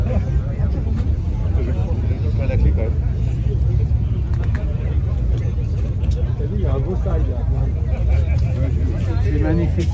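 Vintage cars and old motorcycles roll past during a winter classic-vehicle parade through Paris, engines rumbling steadily nearby under almost constant talking.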